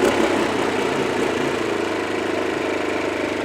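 A warm Champion 1850 watt portable generator running steadily after restarting, a constant mid-pitched engine drone with a slight knocking texture, close and loud throughout.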